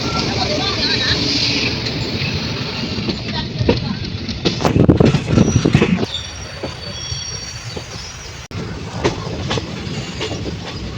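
A train rumbles through Mysuru railway station with a rising clatter and high squealing wheels, then a loud burst of rolling noise before fading to a steady hum.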